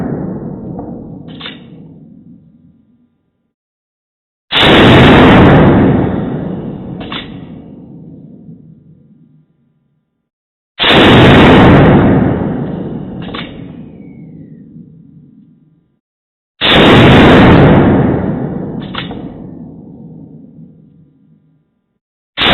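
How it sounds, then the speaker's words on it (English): .38 Special revolver shots fired single action at a range ring out four times at slow, even intervals, each a loud close boom trailing into a long fading reverberation, with no talking. "Let's do some single action shooting and see if I can get a little bit more accurate here."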